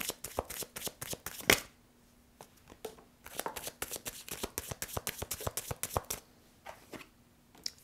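Tarot cards are shuffled by hand in quick flurries of crisp riffling slaps and flicks, close and clear, with brief pauses between bursts and no talk.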